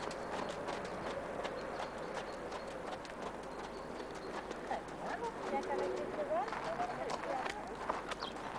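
A horse walks with steady, rhythmic clip-clopping hooves during a hippotherapy session with a child, the footfalls moderately close while a voice talks over them.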